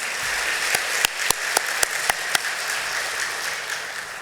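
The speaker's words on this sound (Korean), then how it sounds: "감사의 박수를 보내주시면 감사하겠습니다" A church congregation applauds after a special song at a Sunday worship service, a dense steady patter of many hands with a few sharper claps standing out, moderately loud and without speech.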